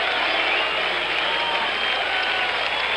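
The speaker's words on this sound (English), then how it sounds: "as we listen to the crowd reaction" Loud, steady crowd noise fills a baseball stadium at the 1977 All-Star Game at Yankee Stadium, a continuous roar of cheering and applause that holds at one level throughout with no break.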